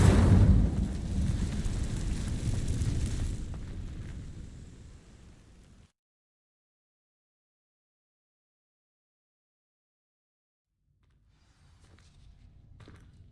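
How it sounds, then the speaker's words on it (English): Incendiary fire spell setting dry vines ablaze in Hogwarts Legacy, a loud roaring whoosh of flame that fades over several seconds into silence, then a faint rumble returns. "These dry vines are one spark away from becoming kindling. Incendiary!"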